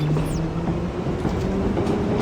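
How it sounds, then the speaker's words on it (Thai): A train rumbles past in the video game Dead Space 2, a loud, continuous rolling roar with clattering metallic textures and a brief high screech at the start. "โอ้ยรถไฟ รถไฟ"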